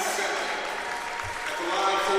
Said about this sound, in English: Kennedy will leave to a really nice ovation and a round of applause from the Calhoun faithful